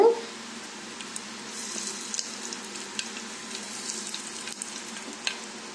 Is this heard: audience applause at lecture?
no